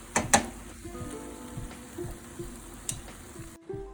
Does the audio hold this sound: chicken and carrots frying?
yes